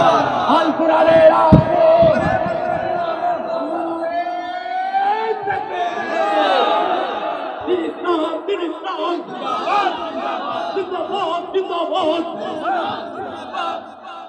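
A crowd at an Islamic religious gathering shouts a takbir chant in response to a leader's call, with loud, sustained massed voices rising and swelling together and overlapping talk continuing beneath the chant.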